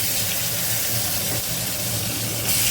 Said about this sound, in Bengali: এবার কেটে নুন হলুদ মাখানো এই আলুগুলো মাছের ঝোলের জন্য দিয়ে দিলাম। দিয়ে এগুলোকে ভেজে নেব।